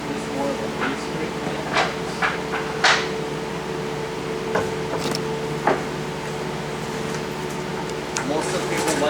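A hand scraper scrapes a metal surface to create a deeper base scrape, giving a series of short, sharp strokes at irregular intervals over a steady background hum while someone talks.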